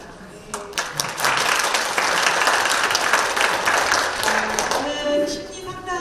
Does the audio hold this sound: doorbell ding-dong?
no